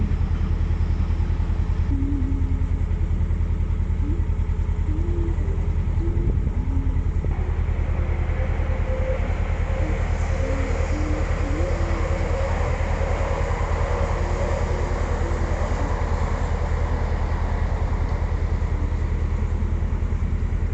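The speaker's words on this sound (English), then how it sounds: "And there's a train." A train rumbles past steadily for a long stretch, a low continuous roar with faint squeals riding on top and no voices.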